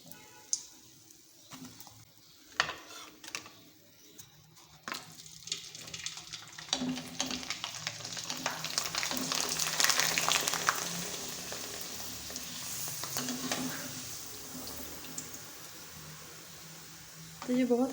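Rice flour papads frying in hot oil, a steady sizzle that swells in the middle and stays close, with brief clinks and handling noises around it and a voice talking over the frying.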